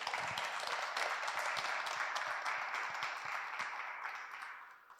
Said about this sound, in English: Big round of applause for Prasanna.